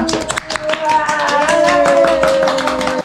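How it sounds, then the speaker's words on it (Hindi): Rhythmic hand clapping, quick and repeated, sounds over a tonal melody as people clap along to a birthday song. "तालियां बजाओ तालियां"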